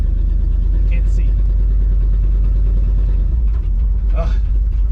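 The carbureted engine of an old Dodge Power Wagon truck runs with a steady, heavy low rumble, close up, with a couple of short voice sounds and noises over it.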